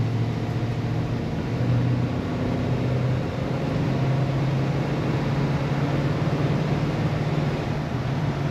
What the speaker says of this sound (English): Starts up and idles nicely right away.